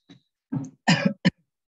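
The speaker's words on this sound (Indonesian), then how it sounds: "Kalau kelamaan tidak menggunakan masker, itu terhirup udara luar jadi batuk." A few coughs in a row, the second and third harsh and loud, from a person indoors who went without a face mask and breathed outside air; the bursts are short and separated by brief pauses.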